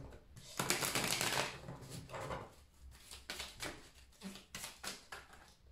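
Oracle cards handled and laid out, a dense burst of riffling and sliding card sounds followed by softer separate flicks and taps as three cards are placed, close and quiet.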